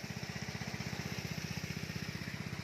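A small engine-driven water pump drains a fish pond, running at a steady idle with a fast, even putter that stays loud and close throughout, with no voices.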